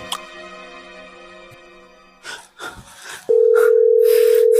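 A steady telephone tone sounds during a call attempt, coming in after some faint rustling and breathy noises and then holding loud and unbroken to the end.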